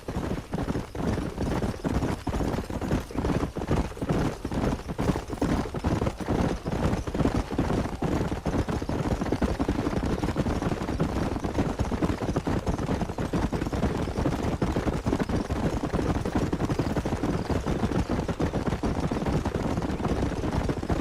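Horse hooves clip-clopping in Red Dead Redemption, a rapid galloping rhythm of hoofbeats running continuously and fairly loud, with occasional snorts and whinnies over a dense background.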